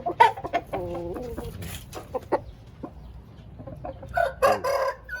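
Chickens and roosters at a rooster farm crow and cluck in overlapping bursts, one crow rising loud and near early on and another cluster of calls near the end, with quieter clucking between.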